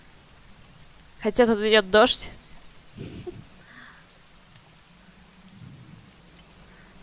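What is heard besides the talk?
rain falling in the video game Tunguska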